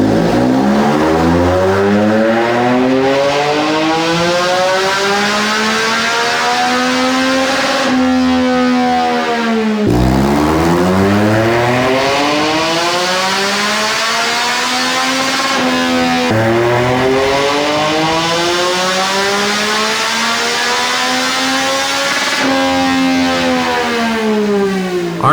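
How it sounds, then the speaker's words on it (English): A Yamaha MT-09 motorcycle on a dyno, stock, pulls hard through its rev range three times, the engine note climbing steadily in loud, continuous sweeps before dropping back and winding up again, with no talking. "we're done with our stock passes here, and we made a total of 113 rear wheel horsepower with 70 pound-feet of torque"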